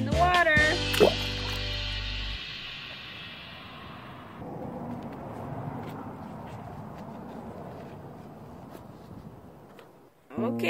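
A toy T-Rex dinosaur is tossed into water with a single splash early on, followed by faint sloshing and dripping while a voice talks nearby.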